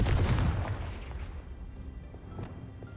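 Confringo spell explosion in the Hogwarts Legacy video game: a loud, deep blast at the start that rumbles and slowly fades into a low tail, with a few faint pops afterward and no talking.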